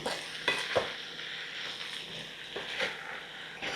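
Spiced snake gourd curry stirred in a cast iron kadai, a steady sizzle under scraping spoon strokes with a few sharper knocks, close up and alone without talk.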